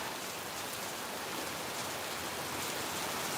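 Rainy-season rain in Phnom Penh pours steadily, a constant even hiss of falling water at moderate volume with no breaks and no voices.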